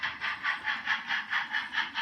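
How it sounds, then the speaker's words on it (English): A train departing a station, with a steady rhythmic chuffing of about five beats per second, moderately loud and hissy, with no voices. "Train is now departing Archuleta, heading for Eagle, where we'll pass by the Argo Mill."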